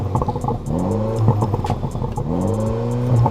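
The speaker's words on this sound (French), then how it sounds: "Vous pouvez nous démarrer le véhicule," MINI John Cooper Works engine fires and revs, with two rising throttle sweeps over a busy, close engine note.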